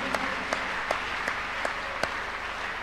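A church congregation at a Tuesday miracle service claps in praise, with a steady bed of many hands under evenly spaced louder claps about every half second.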